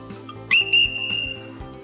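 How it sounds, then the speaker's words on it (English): A single sharp, high-pitched blast from a water safety whistle with no moving parts, loud and close, held steadily for about a second before cutting off. "make sure that you get a specific whistle for use in water situations"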